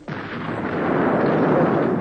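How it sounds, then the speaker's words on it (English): An acetylene cylinder explodes with a sudden, loud blast that opens into a sustained, roaring rumble filling the whole moment. "This is the sort of bang you get when an acetylene cylinder explodes"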